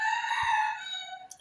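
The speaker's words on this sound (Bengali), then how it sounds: "ওই যে দেখুন মুরগিগুলো কিভাবে ডাকছে।" A chicken gives a drawn-out harmonic crowing call, close and clear, with a short extra squawk near the end.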